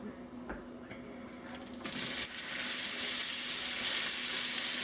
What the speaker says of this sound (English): So just gonna hit the pan with a little bit of olive oil.